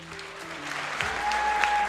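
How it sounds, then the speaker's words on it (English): Applause from a squash tournament audience at the Under-23 World Championship final, honoring the runner-up; steady clapping that builds slightly louder over a couple of seconds, with a faint tonal hum underneath. "Can we also have a big round of applause for our runner-up in this final"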